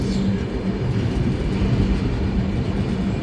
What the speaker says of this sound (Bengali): আমরা কিন্তু এখন পুরী স্টেশনেই ঢুকছি